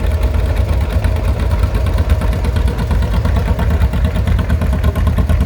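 Vintage John Deere tractors, including a 420, driving out to a parade, a loud steady chugging engine putter with rapid even pulses throughout, close by with no talk.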